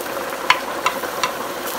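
Shrimp stirred and fried in a pan with little oil, giving a steady soft sizzle broken by three or four brief scraping clicks of a utensil, close and without any talking.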